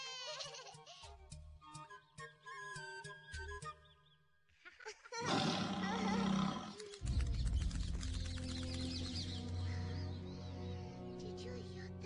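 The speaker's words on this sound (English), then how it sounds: "it sounded like a tiger. It came from over there." A tiger roars loudly and close in an animated children's scene, a long rumbling roar that follows some earlier calls and other animal sounds.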